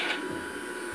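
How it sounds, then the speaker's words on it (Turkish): A toy Bosch vacuum cleaner runs with a steady, high-pitched whirring drone, close and constant through the whole moment with no talking over it. "Arkadaşlar duyuyor musunuz annenin süpürgesinin sesini?"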